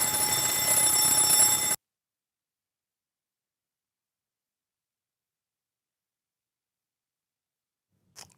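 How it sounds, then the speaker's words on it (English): A building's fire alarm blares in a loud, piercing electronic tone for under two seconds, then cuts out to near silence, with a brief faint click near the end. "Which is why the fire alarm keeps going off."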